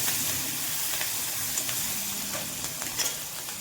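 Tomato and chili fry in oil with a steady close sizzle, while a spoon stirs through the pan with soft scraping and occasional light taps, no voices present.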